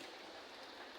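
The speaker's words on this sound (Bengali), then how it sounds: "আজকে সারাদিন বৃষ্টি" Steady rain falls during an all-day downpour, an even, faint hiss that continues unbroken with no voices.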